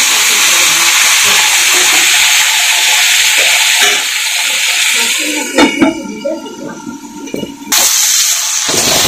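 Flat beans frying in hot oil under a lid for a bean chorchori, giving a steady broadband sizzle and hiss with a few clatters and a brief louder burst when the cover shifts.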